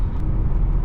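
Mercedes E53 AMG with a 9-speed gearbox accelerating hard, a loud, dense engine roar filling the low end steadily throughout with no talking.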